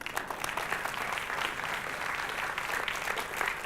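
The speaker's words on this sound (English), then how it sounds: "it's time for you to applaud the people at the back." Front-row attendees at a talk applaud the people at the back, a continuous, even wash of clapping from a sizable crowd, moderately loud and sustained throughout.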